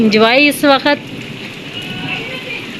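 Heavy rain pours down in a steady, hissing wash, with someone speaking briefly at the start before the downpour carries on alone.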